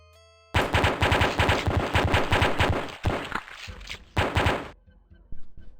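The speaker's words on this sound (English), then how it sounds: "I'm getting out the M16 or MP41, sorry, to shoot them." MP41 submachine gun fire at oozes in the Pathways Into Darkness video game, a loud rapid burst of rhythmic shots followed by a couple of shorter bursts and a fading tail.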